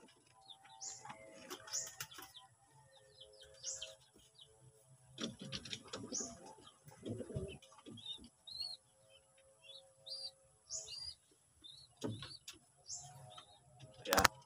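Young pigeons in a backyard loft give soft intermittent chirps and peeps, with scattered faint coos, rustling and occasional wing flaps, heard close but quietly with no talking.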